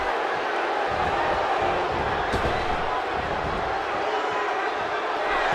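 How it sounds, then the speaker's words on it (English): Arena crowd at an NCW independent wrestling show, a steady loud roar of cheering and shouting throughout, with a brief sharp slam-like hit partway through. "This crowd getting pumped up"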